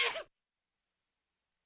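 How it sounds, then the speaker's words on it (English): A man sneezes once on a live sports radio show, a short sharp burst close to the microphone followed by silence. "I mean, that's his sneeze."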